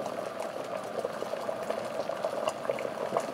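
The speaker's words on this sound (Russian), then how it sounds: "Но он уже кипит, реально кипит" An electric kettle comes to a rolling boil, with a dense bubbling hiss and scattered pops and crackles of the heating water, steady and close, with no voices.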